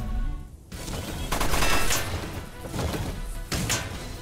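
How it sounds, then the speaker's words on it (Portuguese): Gunfire from mech combat in the video game Front Mission 1st Remake: loud, dense volleys of rapid shots in several bursts, broken by brief pauses between salvos. "Eu vou atirar"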